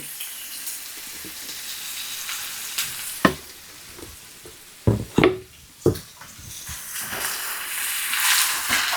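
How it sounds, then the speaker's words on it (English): Flour is stirred into melted butter in a pan for scratch biscuits-and-gravy, giving a steady sizzle with several sharp scrapes and knocks of the spoon near the middle and the frying swelling louder toward the end. "Now that my butter is nice and melted, I'm going to add 2 heaping spoonfuls of flour."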